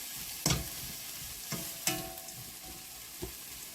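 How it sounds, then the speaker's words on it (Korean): Anchovies stir-fried in a dry pan with onion, a soft continuous sizzle punctuated by a few scraping clacks of a spatula against the pan, fairly close and without talk. "자, 이렇게 달달달달 볶아주세요."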